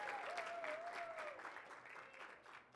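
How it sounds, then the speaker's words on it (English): A school audience applauds at a student athlete's college signing. Dense, steady clapping from a crowd fills the space at moderate distance and slowly fades, with a faint voice or tone briefly underneath. "Can everybody give her a big round of applause?"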